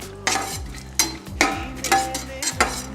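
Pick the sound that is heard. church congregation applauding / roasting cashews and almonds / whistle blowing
roasting cashews and almonds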